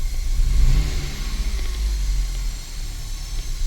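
A Chevy Malibu engine with a cylinder 4 misfire revs and idles loudly and close by, a rough, uneven rumble that rises and falls.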